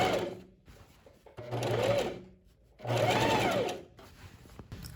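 A sewing machine running stitches close to the edge of the fabric in three separate bursts, each one a near, rapid mechanical chatter with brief pauses between them.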